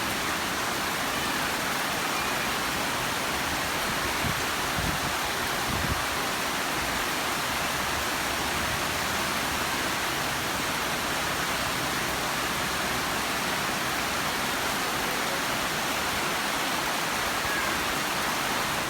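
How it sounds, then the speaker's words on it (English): Steady rain pours down outdoors, a dense, even hiss of drops that stays constant and fairly loud throughout, with no voices. "what was most healing was having the opportunity to hear this rain"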